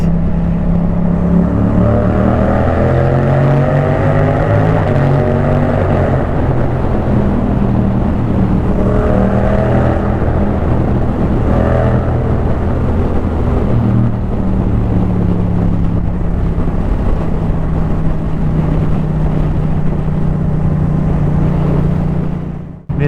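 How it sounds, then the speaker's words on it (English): A Yamaha MT-07 with its crossplane engine and decatted exhaust, heard while riding: a loud, close, continuous engine drone rising and falling in pitch through gear changes and throttle, with no talking. "Love the crossplane engine."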